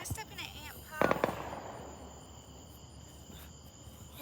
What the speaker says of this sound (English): Oh, I heard a lot of fireworks from a distance.